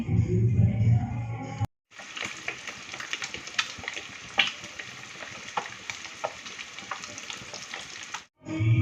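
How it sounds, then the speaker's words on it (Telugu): Slit boiled eggs fry in hot oil with a loud, steady sizzle and crackle that runs for several seconds, broken by short pauses at the start and end. "ఎగ్స్ అని ఇలా ఘాట్లు పెట్టి ఆయిల్లో అయితే మంచిగా ఫ్రై చేసుకోవాలి"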